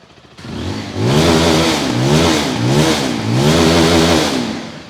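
Nearby, a 350 cc single-cylinder Zontes 350 R motorcycle engine is revved hard several times in a row. Its exhaust note swells and drops in quick, loud cycles after a brief quiet start, and no one speaks.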